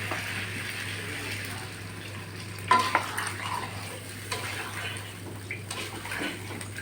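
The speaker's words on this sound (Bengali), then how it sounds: "এখন ঝোলটা দিয়ে দিচ্ছি" Water is poured into a fish curry simmering in a pan with tomato, spices, potato and lentil dumplings, giving a splashy pour and stirring with a brief clatter against the pan.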